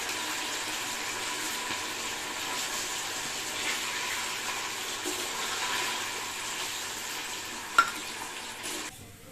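Chicken frying in hot oil in a home kitchen for chicken noodles, giving a soft, steady sizzle with faint stirring and a brief clink near the end, heard alone without talk.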